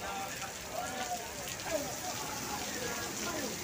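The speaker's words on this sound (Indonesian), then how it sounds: "Akhirnya sore ini Kampung Rambutan diguyur hujan juga." Rain falling on surfaces at Kampung Rambutan bus terminal in the afternoon, a steady faint patter and hiss with scattered distant voices underneath.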